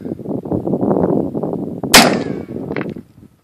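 A Russian M44 sniper rifle fires one sharp, loud shot at a 13-inch CRT television outdoors, cracking out partway through after a stretch of rough rumbling noise, then a short ringing decay and a faint clatter before near silence.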